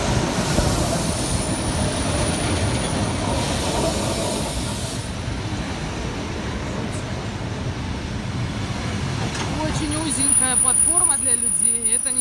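A train rumbles past close by a narrow platform in Gorodeya, Belarus, with a steady roar, wheel noise and hiss throughout, rising at the end with faint squealing.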